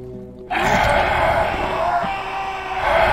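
Haunting wailing death scream of undead creatures in the Gothic role-playing game, a loud sustained moaning cry that starts abruptly and holds steady, with no talking.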